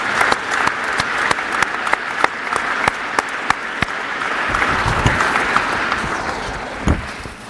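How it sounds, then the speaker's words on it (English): An audience at a Washington and Lee athletics awards ceremony applauds, a sustained room-filling wash of clapping with sharper individual claps standing out near the front. "let's thank them with a generous round of applause"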